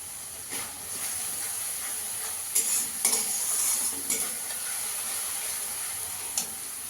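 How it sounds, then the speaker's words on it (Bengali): Spice masala with Kashmiri chilli powder frying and being stirred in a pan, with a steady close sizzle and hiss and several sharper scraping strokes of the spoon, no talking. "ভালো করে মশলাটাকে কষিয়ে নিতে হবে।"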